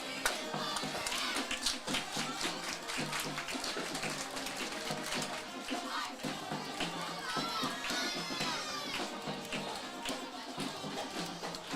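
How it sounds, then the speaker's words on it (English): A crowd at a high school football game, Greensburg against South Dearborn, murmurs, cheers and claps through a steady roar, with scattered shouts and voices mixed in, moderately distant. "Good crowd sticking with the Pirates here to the end."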